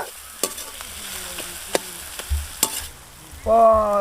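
Onions and tomatoes sautéing in a pan for a big fish head curry: a low sizzle with sharp spoon taps and scrapes against the pan, then a louder burst near the end, with no voices.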